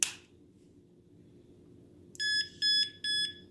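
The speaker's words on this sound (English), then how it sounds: "I'm gonna lock it. It's gonna beep." A Bluetooth smart lock sounds three short, bright electronic beeps in an evenly spaced run as it locks, close and clear over a quiet room hum.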